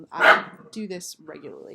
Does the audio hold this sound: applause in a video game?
no